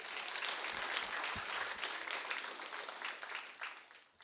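A comedy show audience applauds steadily to welcome comedian Maheep Singh to the stage, with dense continuous clapping heard from within the crowd that slowly thins toward the end.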